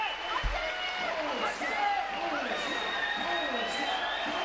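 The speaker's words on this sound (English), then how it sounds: "Everybody cheering on." Crowd cheering and whooping for a world-record powerlifting deadlift at the 2017 World Games, a sustained roar of shouts with scattered applause, under a commentator's voice.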